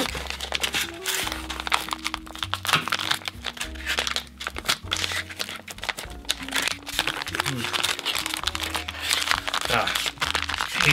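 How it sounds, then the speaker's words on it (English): Crinkly crackling of a plastic bag holding stylus pens being pulled and torn open, a steady close rustle throughout with talk and background music underneath. "How many Lanooskis does it take to open a plastic bag"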